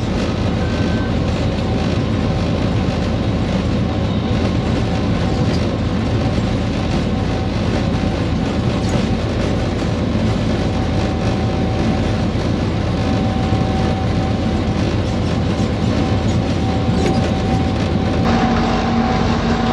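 A loud, constant roar fills the cab of a running Pakistan Railways locomotive as it passes through Habibabad station, a steady engine drone with faint rail rhythm and occasional tonal whines.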